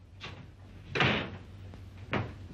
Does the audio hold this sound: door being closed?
yes